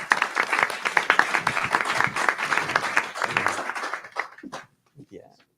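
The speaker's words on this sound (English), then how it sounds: "Round of applause." Audience applause at a district city council candidate forum in a university hall, a steady crowd of clapping hands for about four seconds before tapering to a few scattered claps, with some voices underneath.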